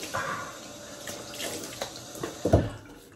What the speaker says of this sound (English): Get some cold water on the old face here.